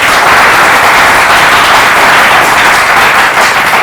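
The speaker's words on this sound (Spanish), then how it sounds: "Un aplauso para ustedes." Audience applause at an academic talk event, a loud, dense and sustained wash of clapping from many hands, continuing evenly without any voices.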